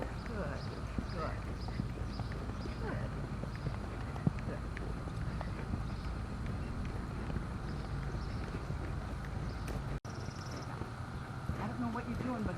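Hooves of a gaited horse clip-clop steadily through a dressage session, a continuous rhythmic patter under arena background noise, with a voice talking in the background.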